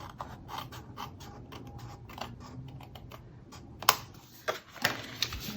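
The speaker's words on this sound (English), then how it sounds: "So just take your snips and" Snips cut paper for a handmade card in a series of small, quiet, crisp clicks and snaps, close by and spaced irregularly, louder toward the end.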